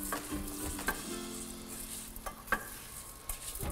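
Risotto rice stirred in hot olive oil in a pan, a soft continuous sizzle broken by a few sharp scrapes and taps of the spoon, close and fairly quiet with no talking.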